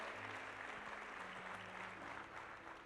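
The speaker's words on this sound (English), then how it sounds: "Yeah, give Rick a round of applause" Audience applause at a motivational speech event, steady dense clapping from a crowd heard throughout, fairly distant with faint low tones beneath.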